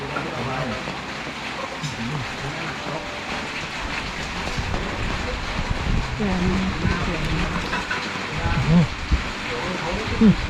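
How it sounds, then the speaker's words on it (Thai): Rain falls during a storm along the road from Chiang Rai through Fang to Mueang Khong, a steady patter and wash running beneath people chatting nearby. "ท่ามกลางฝนตกโปรยปลายนี่เลย"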